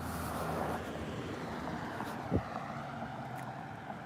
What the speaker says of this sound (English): And I hear engine sounds, I think, in front of me.